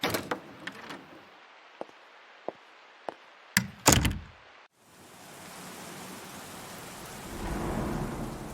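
An audio drama storm scene opens with sharp isolated drips and cracks, then a loud thunder crash, followed by steady heavy rain hissing and swelling toward the end, with no talk.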